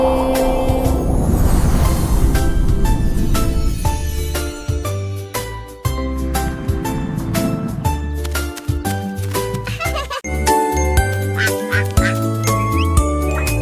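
Duck quacks appear within a French children's song, mixed with bright jingling music and singing that carry on throughout.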